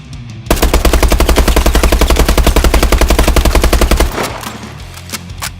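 Sustained automatic gunfire from a rifle without a grip, fired at a wall on the firing range in Call of Duty Advanced Warfare, a rapid steady burst of loud shots lasting several seconds before stopping abruptly.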